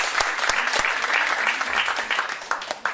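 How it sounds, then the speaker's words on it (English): An audience at a Jeunesse back office training applauds, a dense, even round of clapping with a few sharp individual claps standing out. "Give these people an applause."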